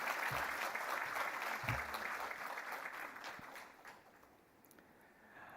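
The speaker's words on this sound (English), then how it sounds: "Let's please give Madam Mohammed a massive round of applause" Audience applause at a women in finance and insurance summit in Namibia, a broad wash of clapping from a large hall that starts strong and gradually thins and fades over several seconds.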